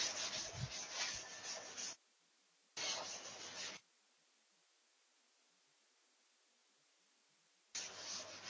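Writing being rubbed off a teaching board in an economics lesson, two short bursts of dry scraping rubs separated by a gap, then near silence before a third burst starts at the end.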